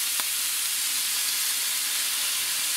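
Worcestershire sauce hits a hot pan of ground beef, producing a continuous loud, hissing sizzle that stays steady and close for the whole stretch, with no voices.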